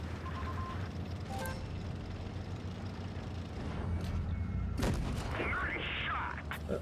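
A tank cannon fires in World of Tanks Blitz, one loud blast near the end over a steady engine rumble and background battle noise, with no talk over it.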